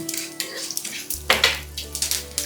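Whole mustard seeds, coriander seeds and fennel sizzle in hot oil over a low flame, with crisp popping crackles and a few metal clinks from stirring, close and fairly loud, with no speech.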